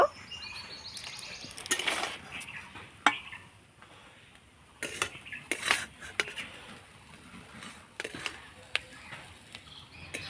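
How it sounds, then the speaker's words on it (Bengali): Curry leaves are stirred through a semolina-based savory filling in a pan, a metal spoon scraping and clinking against the pan in irregular bursts with quieter pauses between, close and moderately loud. "তো কারি পাতাটা একটুখানি নাড়াচাড়া করে নেব"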